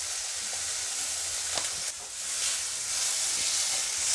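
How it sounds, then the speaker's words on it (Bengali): Spice masala with chopped tomato and turmeric sizzles loudly in a pan for prawn malai curry, a continuous bright hiss with a few faint utensil taps, close and steady throughout. "মশলাটাকে আমি খুব ভালো করে কষিয়ে নেব"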